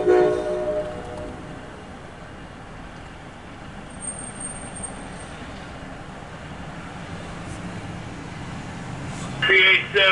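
A CSX intermodal freight train passes, its horn sounding at the start and fading into a steady, rolling rumble of wheels and cars that continues throughout.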